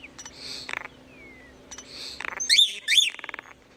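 A starling mimicking other sounds delivers a series of varied whistles, chirps and a thin sliding tone in separate bursts, close and fairly clear, with a brief louder cluster of sharp, squeaky notes near the end.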